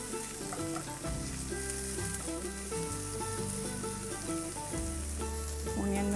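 Onions browning in a pan for roasted baingan bharta, giving a continuous even sizzle that is mixed under steady background music.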